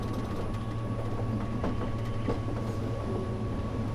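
A Vekoma monorail car at the Efteling theme park rolls along its track with a steady low mechanical rumble and faint intermittent clicks, continuous and fairly close, without talk.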